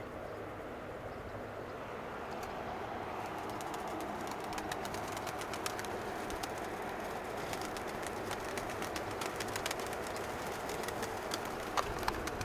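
Soft pigeon coos murmur faintly under a steady wash of outdoor background noise, with no voices.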